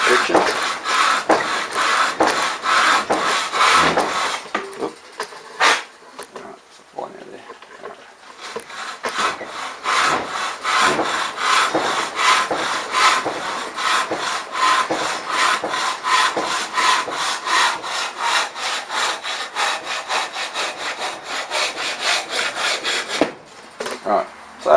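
Hand saw rasping through pallet wood in a long run of quick, even strokes, close up, with a brief pause partway and near the end.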